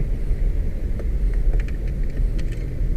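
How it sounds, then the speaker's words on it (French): A car on the Mornay race circuit accelerating and climbing through the gears, a steady close rumble of engine and road noise with slight shifts in tone, no talk. "t'accélères et tu montes les rapports"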